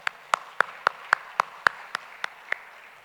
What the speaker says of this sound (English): Can we have a big round of applause for the ExCom?